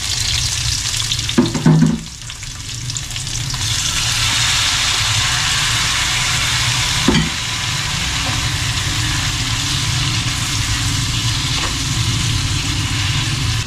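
Tomatoes and onions sauté in hot oil in a pan, a loud continuous close sizzle with a couple of brief stirring scrapes.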